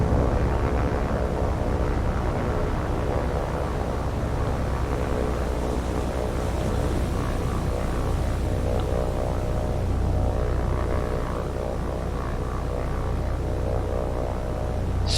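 Steady propeller drone of a floatplane in the naval combat game War on the Sea, a continuous low engine hum with no voices.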